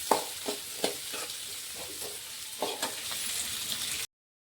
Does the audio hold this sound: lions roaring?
no